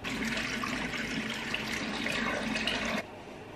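Heavy rain pours down in a steady, dense roar, close and loud, easing slightly toward the end with no voices.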